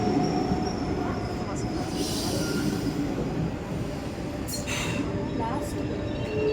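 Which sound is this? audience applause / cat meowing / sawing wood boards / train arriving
train arriving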